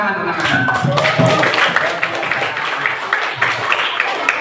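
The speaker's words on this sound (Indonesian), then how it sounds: "Tepuk tangan." A room of people claps in a dense, steady burst of applause, with voices chattering underneath.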